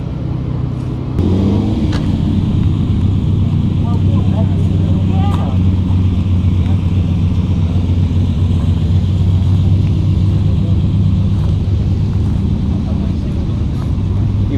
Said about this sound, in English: This Countach sounds pretty cool.